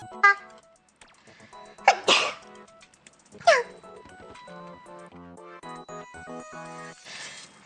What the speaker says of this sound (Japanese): 本当に最近くしゃみがすごいんだよね。